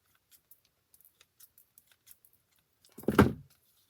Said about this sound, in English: I think I am going to trim that just a little bit.